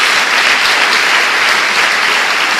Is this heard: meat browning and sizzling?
no